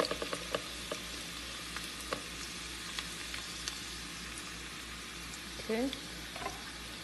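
Onions frying in a pan for Congolese mbuengi sauce, a steady soft sizzle and crackle with occasional stirring clinks, close and moderately quiet, with a brief spoken word near the end.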